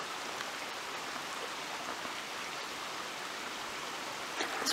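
A creek flows along a hiking trail, a steady soft rush of water at moderate distance, even and unbroken, with a brief louder rustle near the end and no voices.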